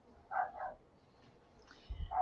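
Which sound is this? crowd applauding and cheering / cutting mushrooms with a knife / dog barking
dog barking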